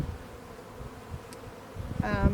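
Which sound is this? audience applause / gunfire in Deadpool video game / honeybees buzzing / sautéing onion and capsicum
honeybees buzzing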